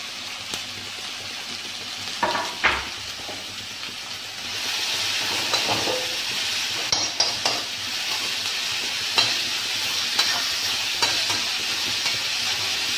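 Onions frying with mustard seeds in a pan for potato stuffed bonda, a steady close sizzle with scattered pops and stirring clatter, louder from midway, with no voices.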